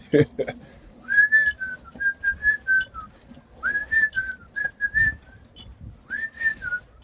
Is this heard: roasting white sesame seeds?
no